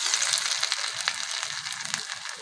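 Balls of cauliflower and lentil kofta sizzle in hot oil with a dense, steady crackling hiss and a few soft pops, close and continuous, with no talk.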